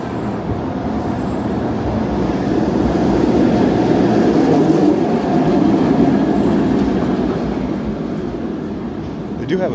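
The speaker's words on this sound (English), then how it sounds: "They do have a subway here." A subway train in Milan rumbling past at close range, a loud continuous rolling roar that swells midway and eases toward the end, with faint voices under it.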